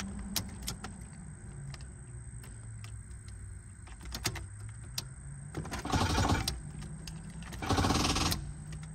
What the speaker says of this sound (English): You hear how dead that battery is?